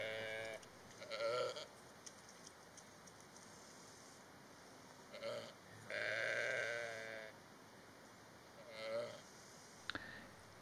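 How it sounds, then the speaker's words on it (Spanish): A ewe lying down in labour gives several separate bleats, each rising out of a quiet background and spaced a few seconds apart, with a steady faint hum running throughout. "Llega un momento en que la oveja se tumba en el suelo y comienza a emitir unos sonidos"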